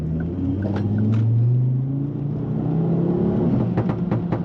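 A Ford Focus ST engine revving nearby, a loud rumbling drone that swells and eases with a few faint clicks and knocks over the steady engine tone.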